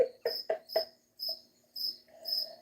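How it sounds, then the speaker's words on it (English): Crickets chirp in short repeated bursts, a close rhythmic trill pulsing several times alone with no talk, in a quiet night setting at a house. "scary crickets again"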